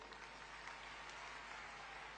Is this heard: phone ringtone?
no